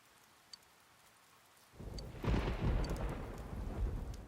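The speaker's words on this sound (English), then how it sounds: "I do like how it rains over the world map, and there's also no music." Thunderstorm over the world map in Persona 4 Golden: quiet at first, then a rumble of thunder rolls in and heavy rain pours down steadily, loud and close with no music.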